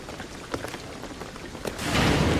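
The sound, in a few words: rain in video game Shadow of the Tomb Raider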